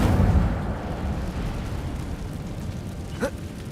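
The Incendio fire spell goes off in Hogwarts Legacy as a muffled burst of flame that swells loudly at first and then fades into a low rumble, with a short faint sweep near the end.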